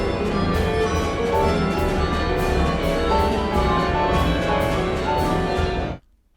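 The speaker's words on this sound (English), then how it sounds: "He explained that it was a true carillon patch for the Kurzweil 2600." A Kurzweil 2600 carillon patch sounds the bells in the Dallas Symphony's recording of Ives's Symphony No. 4. Regular bell strokes ring through a thick, sustained orchestral sound, and the whole passage stops suddenly near the end.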